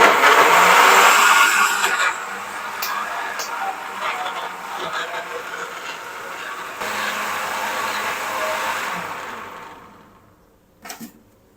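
A blender grinds green chilli and water into a fine paste, a loud steady motor whir that holds for several seconds, dips, rises again, then winds down and stops with a brief clunk at the end.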